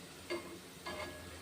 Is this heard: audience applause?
no